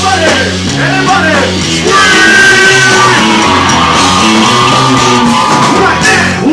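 A live concert crowd at the Hard Rock yells and shouts loudly and continuously over pounding music, the cheering swelling through the middle and staying dense and close throughout.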